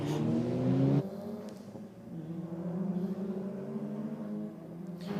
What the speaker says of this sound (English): The Mazda MPS in the Rocket lane, taking on the Evo Lancer